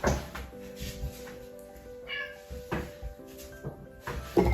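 A pet cat meows several times up close indoors, the cries spread unevenly among a few soft knocks and bumps.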